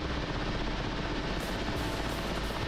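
A Mi-8 helicopter flying in the DCS World flight simulator, a loud, steady, close rotor and turbine roar filling the whole moment without letup.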